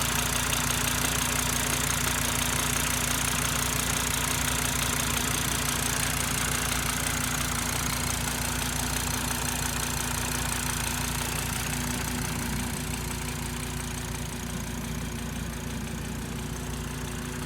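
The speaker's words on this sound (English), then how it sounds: "let me know what you think of the engine. Sounds alright to me." A high-mileage Audi TT RS 8J with a six-speed manual idles close by, a steady, even engine drone holding for the whole stretch with no talking.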